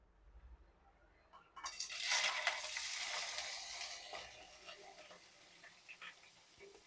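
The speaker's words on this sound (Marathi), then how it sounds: "हे आता आपण तुपावर फ्राय करून घेणार आहोत" Small paneer pieces frying in ghee, starting with a quiet rustle, then breaking into a loud, bright sizzle that settles into a steady crackling fry. The sound is close up and has no talk.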